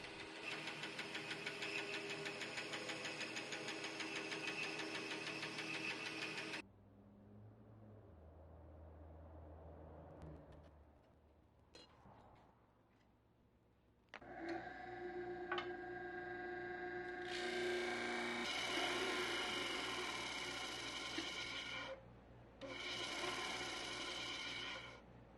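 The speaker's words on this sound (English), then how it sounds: "Whacking them up on the bandsaw." A bandsaw cuts knife handle material for a tactical Bowie, a loud bright buzzing whine in long bursts broken by quieter pauses and shuffling, then resuming in several sustained cuts.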